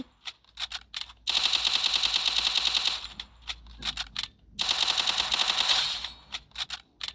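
Automatic gunfire in the mobile shooter Free Fire, with two long sustained bursts and several short single cracks between them, loud and close with no talk.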